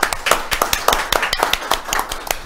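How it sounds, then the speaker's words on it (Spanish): A small studio audience claps for a guest on a Spanish-language talk show, with distinct close, crisp claps in a quick irregular rhythm. "Un aplauso para Dauri"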